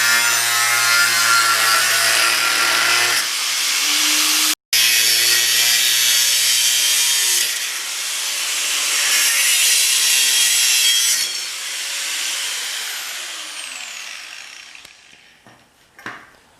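A power saw cuts through the frame of a budget enduro mini bike with a loud, sustained grinding whine. The whine shifts in pitch as it bites, stops briefly, resumes, then winds down toward the end.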